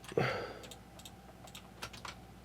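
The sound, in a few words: typing on a computer keyboard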